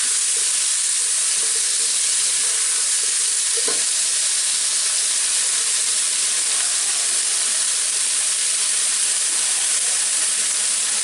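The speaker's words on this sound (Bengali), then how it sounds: "দিয়ে হালকা একটু ভেজে নিই।" Onions, potatoes and tomatoes fry in a pan for vegetable pulao, giving a steady, close sizzle and hiss throughout with a brief stir or clink partway, and no talking.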